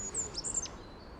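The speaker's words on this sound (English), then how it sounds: "I can hear a goldcrest singing." A goldcrest's thin, very high-pitched song, a brief run of faint sibilant notes with a little flourish, heard outdoors in a garden against soft background ambience.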